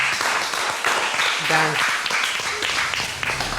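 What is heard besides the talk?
applause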